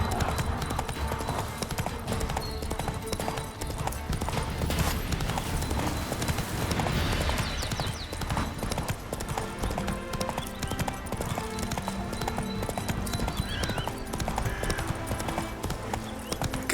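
Hooves of Roach, a horse in The Witcher 3: Wild Hunt, clip-clop steadily at a gallop, loud and close, with an occasional whinny over dense game music and ambience throughout.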